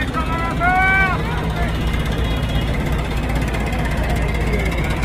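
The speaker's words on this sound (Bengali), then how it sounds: "লঞ্চ ছেড়ে দিচ্ছে, লঞ্চ কিন্তু ঘুরতেছে" A passenger launch ferry's engine churns with a loud, steady low rumble as the vessel departs and turns near Patuakhali, while people talk over it throughout.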